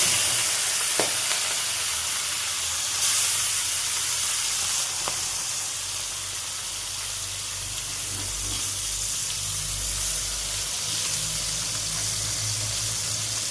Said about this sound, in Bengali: আগে ছোট মাছগুলি ভেজে নিই।